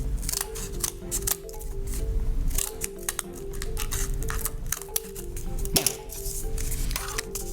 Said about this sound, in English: I'm going to trim this one down just a little